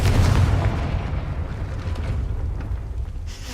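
A Confringo blasting curse from Hogwarts Legacy goes off as a loud, sustained rumbling blast that swells at the start and slowly fades over a few seconds, with no voices.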